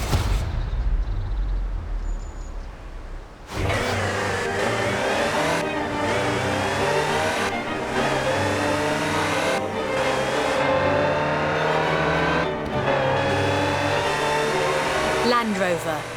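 In the Forza Horizon 4 racing game, a 1972 Land Rover Type 3 off-road engine drones and revs as its pitch rises and falls through repeated gear shifts, loud and continuous after a quieter opening.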